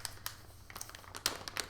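A plastic bag holding skeins of yarn crinkles close by in soft, irregular rustles and a few sharper crackles over a quiet room.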